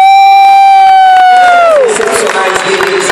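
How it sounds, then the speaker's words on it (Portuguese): Loud crowd at a business tour event in São Paulo, a long sustained tone gliding down and fading into a roar of cheering and shouting with some scattered clapping. "uma salva de palmas para os"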